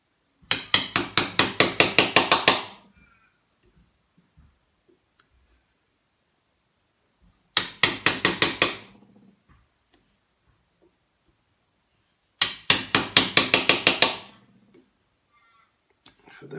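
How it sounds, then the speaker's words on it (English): Japanese genno chisel hammer striking a chisel while cutting dovetails for an apothecary chest, three bursts of about eight to ten rapid, sharp, close taps each, separated by quiet pauses. "this hammer is called a Jenno, which is a Japanese chisel hammer"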